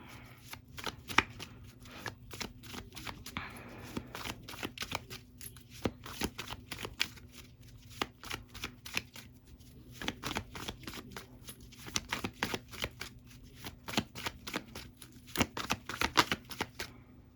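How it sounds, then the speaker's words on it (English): Tarot cards shuffled by hand, a steady run of crisp riffling and flicking bursts that repeats across the whole stretch, close and fairly quiet with no talking. "Let me pull from another deck."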